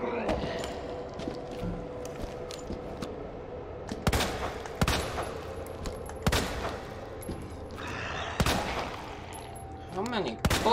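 Sharp gunshots in Resident Evil 2, several separate loud cracks spaced a second or two apart over a low game ambience, with faint speech.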